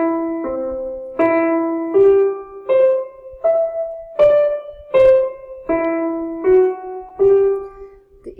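A simple melody plays as a steady string of evenly spaced, equal-length notes, clear and moderately loud with no rhythmic variation and no talking.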